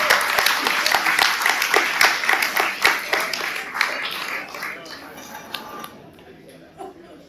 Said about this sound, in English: Let's all give them a big round of applause now.